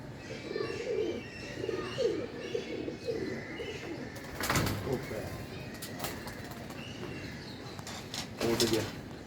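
Pigeon cooing outdoors with soft bird calls and a burst of wing flapping as the bird takes off, while people talk nearby.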